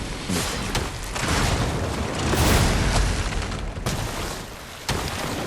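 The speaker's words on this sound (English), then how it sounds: "Bro, you can parry the cannons." Heavy, booming cannon blasts in the video game Lies of P: Overture roll together into a loud, sustained barrage with sharp cutoffs between volleys.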